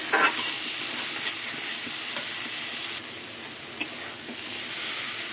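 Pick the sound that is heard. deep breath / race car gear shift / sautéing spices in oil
sautéing spices in oil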